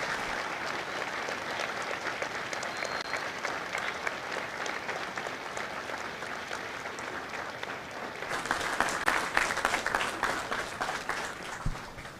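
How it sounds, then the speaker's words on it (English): Sustained applause from a large crowd at a Marine Corps boot camp graduation ceremony, honoring Marines in the audience; steady dense clapping that swells louder and closer toward the end. "Ladies and gentlemen, a round of applause for their dedicated service to Corps and country."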